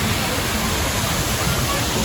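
Water of the lazy river at Disney's Typhoon Lagoon water park flowing steadily as a constant broadband rush, heard up close while walking alongside it.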